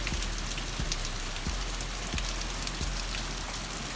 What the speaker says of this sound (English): So we finally got our first thunderstorm.